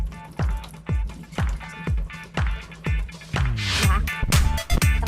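Water running and dripping while rinsing hair dye out of hair with plain water, a series of splashy pours and drips in an irregular rhythm, close by, with no talk.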